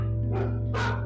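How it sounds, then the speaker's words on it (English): Dogs bark indoors in two sharp, separate bursts over a steady low electrical hum, sounding nervous and fairly close. "Dogs barking, appearing to be afraid."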